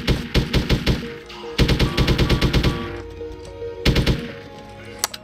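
Gunfire in Hitman: Codename 47, loud rapid bursts of automatic shots in three separate volleys with pauses between, then a single late shot.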